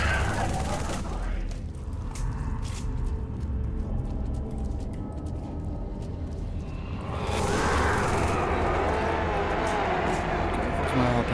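Assault rifle fire in Halo 3 on PC, with rapid crackling bursts running continuously and growing louder and denser partway through, alongside other in-game combat noise.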